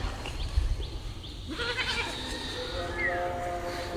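A large goat lets out a long wavering bleat partway through, fairly close, over a rough outdoor background hum.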